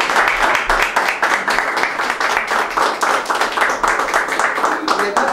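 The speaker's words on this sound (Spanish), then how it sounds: "les voy a pedir a todos los presentes que le podamos brindar un aplauso" People attending a municipal council session clap together in loud, sustained applause, dense rhythmic claps filling the room close by.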